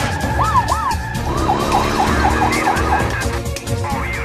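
A toy police car siren wails in a fast repeating up-and-down pattern, loud and close, over a busy background of traffic noise.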